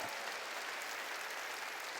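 A church congregation applauding at a worship service led by a pastor, a steady dense wash of clapping throughout with no voices over it.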